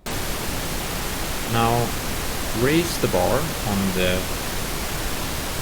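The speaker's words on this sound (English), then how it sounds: "play the pink noise." Pink noise played through a Bitwig Studio session, a constant broadband hiss running the whole time at an even level, with someone talking briefly over it.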